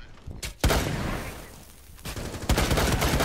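Gunshots are fired through a mirror in the Rainbow Six Siege video game. Loud, close bursts hit around the start and again near the end, with a reverberant rumble and clatter in between.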